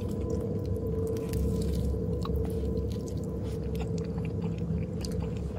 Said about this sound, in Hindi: चबाने वबाने की आवाज कहाँ से आ रही है